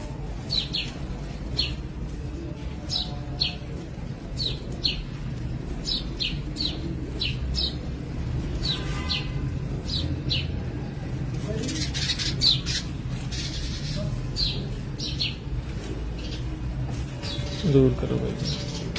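Pigeons of a good breed coo and call near a loft, soft repeated coos and short squawking notes scattered over a steady background, with someone talking intermittently.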